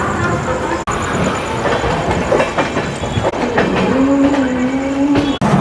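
A Sampoorn Kranti superfast express train runs at speed, giving a loud, close, continuous rumble and rattle of wheels on track, with a few sharp knocks and a rising whine partway through.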